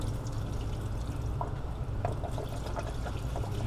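Transmission fluid pours and trickles from the loosened pan of a Pontiac G6 during a filter change, a soft, steady drain with faint drips, close by and quiet, with no talking.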